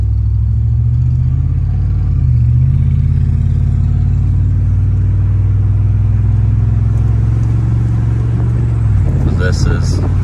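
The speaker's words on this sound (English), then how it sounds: "I don't know if you can hear the exhaust very well or not." A 2018 Ford F150 V8 fitted with a Thrush glasspack muffler cruises along in everyday driving, its exhaust a steady low droning rumble with a brief dip in pitch and slight rises, loud and close from inside the cab.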